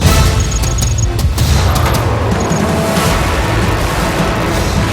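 Heavy rumbling blasts and crashing booms roll continuously from an air bombardment of Baghdad, dense and loud with scattered sharper cracks layered over a constant low roar.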